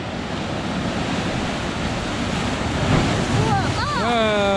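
Ocean surf washes and splashes steadily at a sea cave on the Oregon coast, broad and close, with a voice calling out briefly near the end.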